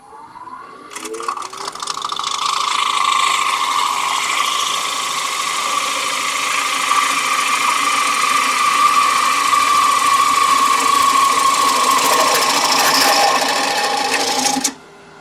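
A wood lathe turns a green-wood bowl with feet, giving a steady, loud whirring hum with a scraping cutting texture as the tool picks up the cut across a ridge, running continuously and ending abruptly.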